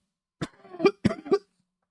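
Two quick double coughs, close to the microphone, with a brief pause between each pair and silence around them.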